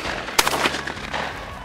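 A single sharp gunshot cracks out fairly close during a quail hunt, its echo fading over a low steady engine-like hum.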